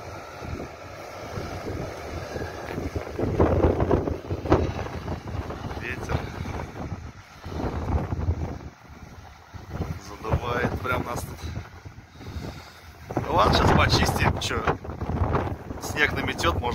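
Snowstorm wind gusts and roars around an excavator loader clearing a race track, loud buffeting rising and falling in waves, with someone talking intermittently over it.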